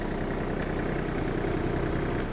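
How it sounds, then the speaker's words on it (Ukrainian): Kubota T-240 Japanese mini tractor engine held at raised revs, a steady close, loud rumbling drone that runs unbroken throughout without any voices. "Даю газу."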